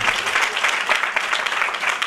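A church congregation at a revival prayer meeting claps together in a continuous, even stream of close hand claps. The clapping holds steady for the whole stretch.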